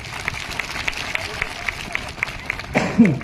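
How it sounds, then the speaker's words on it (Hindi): An audience at an outdoor rally claps in a steady, rhythmic pattern, moderately distant, before a voice cuts in at the very end. "सबके लिए जोरदार आप लोग तालियां बजाइए"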